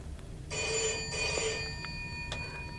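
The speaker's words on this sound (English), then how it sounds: "Sorry about that phone ringing" A telephone rings indoors with two short electronic trills in quick succession, clear and moderately loud over a quiet room, with a faint click afterward.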